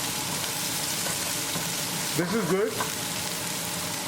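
Garlic with ginger and green chili frying in a pan, a steady broad sizzle heard close throughout, with a brief spoken comment partway through.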